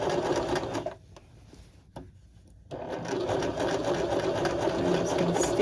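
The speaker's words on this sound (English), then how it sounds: "And I'm going to sew forward." A sewing machine stitches a very narrow crotch seam with a steady, close whirring hum. It stops for about two seconds and then starts up again and runs on.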